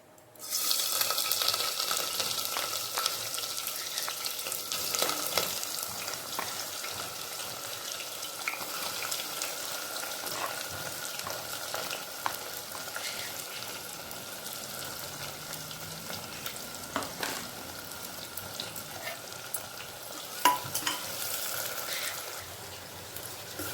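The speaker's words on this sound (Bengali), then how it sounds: "পেঁয়াজটা আর একটু ভাজা হোক লাল লাল করে।" Onion, garlic, cumin and whole garam masala (cinnamon and cardamom) fry in a pan as the base for mutton curry, giving a steady, close sizzling hiss throughout with no talking.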